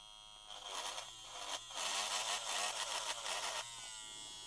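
A JRL Diamante hair clipper with a brushless motor runs on low speed, a close, steady high-pitched electric buzz that shifts slightly as it is pushed through a brush, with no talking.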